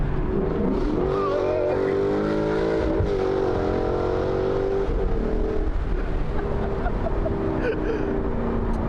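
An Audi RS3 engine drones and climbs in pitch as the car accelerates, heard from inside the cabin with a steady loud rumble and a dip where the gear shifts, faint voices underneath.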